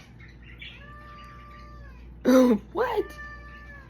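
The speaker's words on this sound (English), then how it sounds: "the cats are talking." House cats meow twice in quick succession, loud and close, with a short call followed by a longer one, while a person talks softly in the room.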